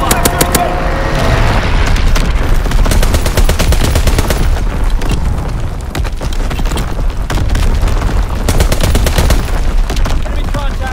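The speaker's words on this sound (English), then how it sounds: "Target zone locked. Strafing run inbound." Dense, loud machine-gun strafing fire from an aircraft in Call of Duty: WWII, continuous rapid bursts with booming impacts filling the whole stretch, heavy and close.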